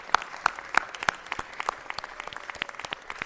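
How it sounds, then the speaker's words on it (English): Audience applause at a city council meeting in a hall: a sparse, moderately loud patter of clapping from a modest crowd, with a few distinct sharp claps early on, fading slightly toward the end. "Give him a round of applause."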